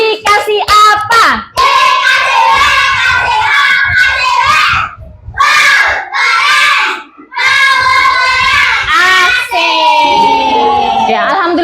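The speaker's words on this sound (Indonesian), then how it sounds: "Oke, teman-teman, beri tepuk tangannya." Schoolchildren in a classroom clap and shout together in energetic bursts, with high excited voices and cheering mixed among the claps, pausing briefly before swelling again.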